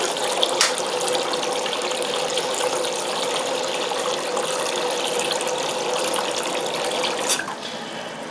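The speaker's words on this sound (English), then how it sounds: "just going to fill this the basin up" Tap running steadily into a basin to fill it, a continuous close splashing rush of water with a faint mechanical ticking underneath and a couple of brief knocks.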